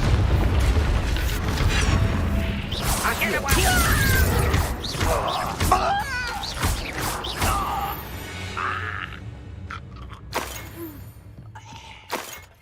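The Confringo explosion spell goes off in Hogwarts Legacy, a loud rumbling blast with crackling, shattering debris that slowly thins into scattered clatter and a few sharp knocks.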